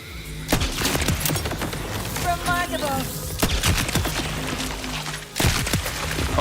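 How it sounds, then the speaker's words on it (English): Rapid gunfire from a Borderlands 4 weapon in the dark, sharp loud bursts of shots with a whining bullet ricochet in the middle, set against game ambience. "Okay, that bullet definitely bounced."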